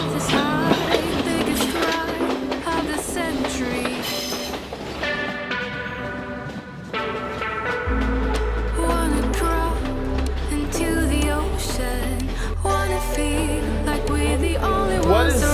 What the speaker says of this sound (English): This train is so much fun and it stops every like 15 minutes.